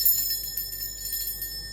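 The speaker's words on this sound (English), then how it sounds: "Now, I'm going to be ringing a bell." A single bell rung to cleanse a space, its bright metallic tone ringing out and slowly fading as a steady shimmering resonance, with no talk.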